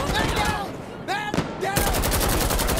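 Close, loud automatic gunfire in Insurgency Sandstorm, a rapid, evenly spaced stream of shots that builds to a steady burst near the end, with a voice talking over the earlier part.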